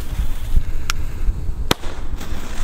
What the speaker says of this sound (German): Und wir fangen jetzt einfach mal an mit den Mini-Knallern von Weco Feuerwerk.